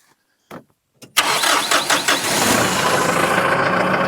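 A New Holland 1412 tractor engine cranks briefly twice, then catches and starts, settling into a loud, steady diesel run close by with no talk.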